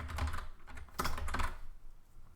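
Rapid clicking keystrokes on a computer keyboard, typing text in the Vim editor, come in two quick close bursts before tapering off, with no voices.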